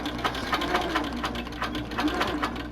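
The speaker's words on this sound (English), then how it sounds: "I'm now just going to stitch down the top edge of my quilt" Quilting sewing machine stitching down the top edge of a pieced quilt, a continuous close mechanical hum with a steady rapid needle rhythm throughout.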